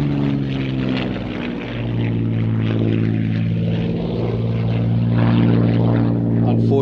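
A Hawker Hurricane propeller fighter flies past at an air festival, its loud, steady droning engine note rising and holding throughout, with a commentator talking over it.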